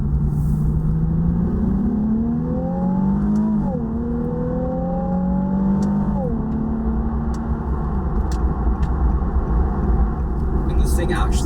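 A Nissan 370Z Nismo with an automatic transmission accelerates hard, its engine revving up through rising pitch sweeps with quick shifts between them, loud and close with a steady road and wind rush underneath.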